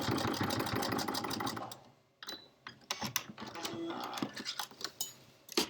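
A sewing machine back stitches on a zipper pouch: a short close mechanical whirring run, a brief pause, then further uneven stitching bursts and clicks.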